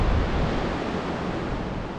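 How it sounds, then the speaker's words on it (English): Ocean waves heard from inside a sea cave on the Cornish coast at Tintagel make a steady, broad rushing wash of surf, filling the space with a dense hiss and low rumble, without talk. "So at that end we see the ocean."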